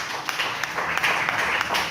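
Congregation applause in a church, a steady, moderately close wash of clapping lasting the whole short moment with no voices.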